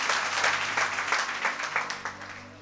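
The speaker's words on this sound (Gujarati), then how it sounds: "હા લ્યો તાળી પાડો ભાઈ" An audience at a Chaturmas katha gathering breaks into a short burst of clapping, dense and fairly close, fading toward the end beneath a low steady hum.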